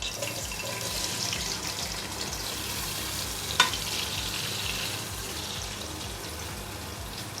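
Onions fry in ghee inside a pressure cooker, giving a steady, close sizzle with one brief sharp click partway through and no talking.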